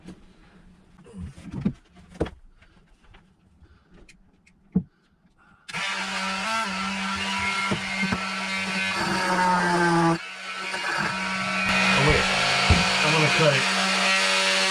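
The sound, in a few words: power tool with metal blade cutting bolts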